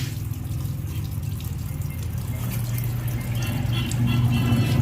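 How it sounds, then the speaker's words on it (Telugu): Used engine oil, flushed with diesel and turned black, drains out of a motorcycle engine in a steady, close trickling pour that grows slightly louder toward the end, with no speech. "ఇట్లా రావాలి అసలు ఇంజన్ ఆయిల్."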